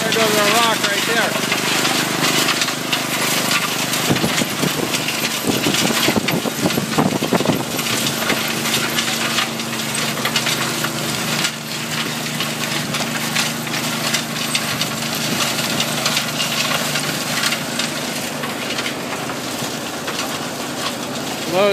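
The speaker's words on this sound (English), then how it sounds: "We got an excavator. There goes our rock right there." A steady, loud engine drone from an excavator runs nonstop at a gold mining trommel rated at 15 yards an hour, with voices talking over the noise.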